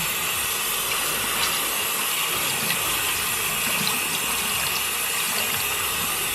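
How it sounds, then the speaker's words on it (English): Water from a tap runs in a steady close hiss over a fabric face mask being rinsed, continuous and unbroken. "let me just rinse this off really quick"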